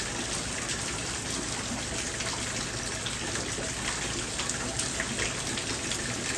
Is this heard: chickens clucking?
no